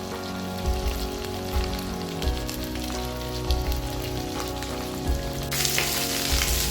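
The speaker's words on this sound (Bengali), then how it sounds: "প্রথমেই একটা ফ্রাই প্যানে কিছু তেল দিয়ে মাছগুলোকে হালকাভাবে ভাজতে হবে" Pieces of rohu fish fry lightly in oil in a frying pan, giving a steady, close crackling sizzle with brief spatters and no talk.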